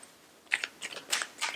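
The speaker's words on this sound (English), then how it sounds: "I look a bit awkward when I shuffle the cards" Tarot cards shuffled by hand make a few short, crisp riffling bursts, close and fairly loud, separated by brief pauses.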